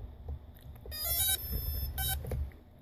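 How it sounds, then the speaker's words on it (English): An ESC on an SK450 multirotor beeps after a flight battery is plugged in: two bright electronic tone bursts about a second apart, clear and close over quiet background hum. "you're going to hear a beep."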